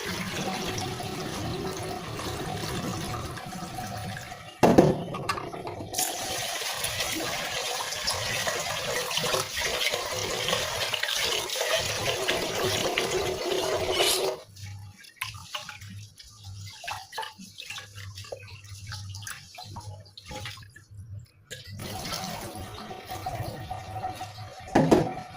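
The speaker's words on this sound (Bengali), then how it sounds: "চালটা 2-3 বার ধুয়ে নিব" Rice rinsed two or three times under running tap water makes a continuous close splashing flow, then quieter swishing and dripping with short pauses as the water is changed.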